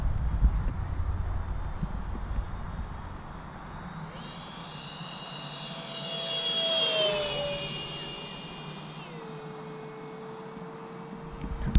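A Freewing Stinger 64mm EDF RC jet plane on a 3s battery flies past outdoors with a high whining ducted fan that swells and Doppler-shifts as it passes, heard over steady wind noise.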